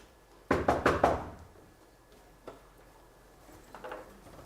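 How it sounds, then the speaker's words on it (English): Four loud knocks on a door as a stage effect during a performance of Macbeth, rapid and close, then a single fainter knock and a short soft cluster of taps later, with no voices. "There's a knocking indeed."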